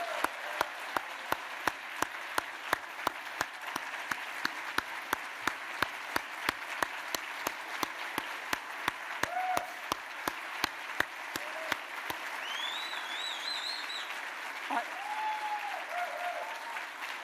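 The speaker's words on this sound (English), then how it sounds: "Let's have a big round of applause for every Metro first responder." Audience applause for a city's first responders at a mayor's State of the City address: a steady, dense round of clapping from a large crowd, sustained and fairly even before it thins out near the end.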